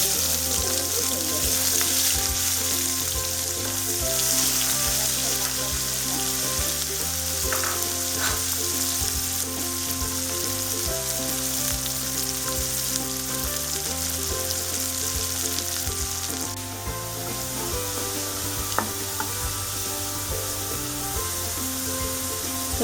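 Chopped onions frying in oil left over from frying potatoes, a loud, close, continuous sizzle with intermittent stirring, while a faint tonal hum runs underneath.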